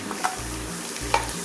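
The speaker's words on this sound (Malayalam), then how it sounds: "ഈ തേങ്ങ ഈ എണ്ണയിലൊന്ന് നന്നായിട്ടൊന്ന് മൂപ്പിച്ചെടുക്കാം കേട്ടോ" Grated coconut frying in hot oil for a Kerala beef roast, a steady close sizzle with two bursts of stirring scrapes and low rhythmic humming bands beneath; no talking.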